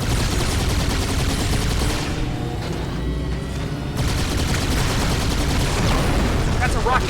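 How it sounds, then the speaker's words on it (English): Loud, dense gunfire and explosive blasts in the Halo 2 game during a vehicle firefight, a rocket among them, nearly continuous with a brief lull in the middle before the barrage resumes. "That's a rocket!"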